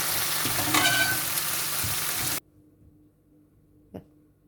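Bacon sizzles and crackles loudly in a hot pan, then the sound cuts off abruptly, leaving near quiet and a single soft knock.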